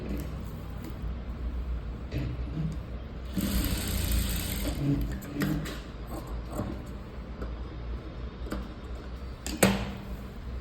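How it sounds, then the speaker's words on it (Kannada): A sewing machine runs in short bursts while straight-stitching a lined blouse, its rapid mechanical whir starting and stopping in a room with some background noise. "ಇನ್ನೊಂದು ಸ್ಟಿಚ್ ಹಾಕ್ತಾಯಿದ್ದೀನಿ"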